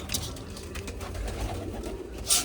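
Soft, low pigeon coos close by, repeating over a faint background hum with a few light rustles.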